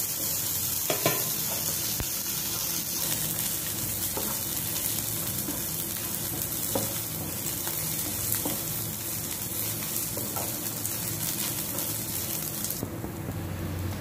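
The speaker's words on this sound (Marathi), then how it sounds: "आता यात घालणार आहोत आल्याचा तुकडा आणि कोथिंबीर, आणि पुन्हा एकदा कांदा सर्व मसाल्याच्या पदार्थांबरोबर भाजून घेणार आहोत।" Onion, ginger and coriander roasting with spices for a Malvani egg curry, a steady close sizzle with scraping stirs and occasional clinks running throughout.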